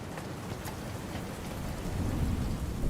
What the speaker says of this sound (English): All that was left was the sound of the raindrops clicking against the window.